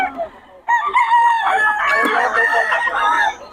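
Young gamecock stags crow and cluck at close range in a short burst of several overlapping calls, loud and strained, with a brief quieter lead-in.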